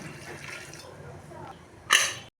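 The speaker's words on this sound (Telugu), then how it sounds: "దీంట్లో కొంచెం సాల్ట్ వేసుకోండి మళ్ళీ తర్వాత పెరుగు పచ్చడిలో సాల్ట్ వేస్తాం కొంచెం చాలు దీంట్లో కొంచెం వాటర్" Water is poured into a pressure cooker holding chopped ridge gourd with a little salt, a short splashing gush near the end after quieter faint kitchen sounds.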